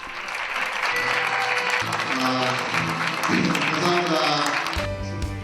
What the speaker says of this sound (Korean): 관객들의 우렁찬 박수 소리가 오랫동안 공연장 안에 울려 퍼진다